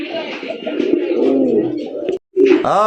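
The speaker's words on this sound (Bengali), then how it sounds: "একদম পুতুল কাটাবে দুইটা কবুতর" A pair of pet pigeons, shown for sale, coo close by in soft, rolling throaty bursts that carry on almost without pause, with one brief silence near the end.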